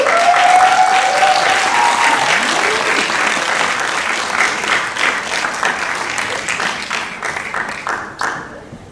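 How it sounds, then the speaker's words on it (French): A ceremony audience applauds loudly and continuously for an author at a theology institute graduation, a dense wash of many hands clapping together that eases off slightly toward the end. "Applaudis."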